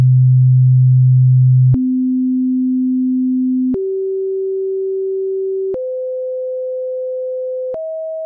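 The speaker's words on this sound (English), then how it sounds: "Here's what the pure tones look and sound like by themselves." Five pure sine wave tones play one after another, each held about two seconds and stepping up in pitch, steady and loud with abrupt clicks at each change.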